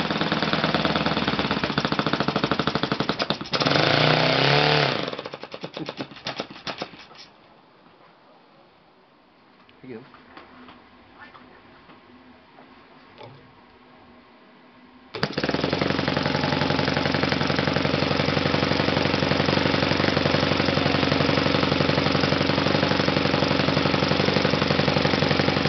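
A 45-year-old Kalt FC-1 model engine runs on a test, a loud, harsh, rapid buzzing that sputters and drops away for several seconds before roaring back up to full, steady speed.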